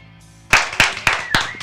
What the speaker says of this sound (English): We'll clap before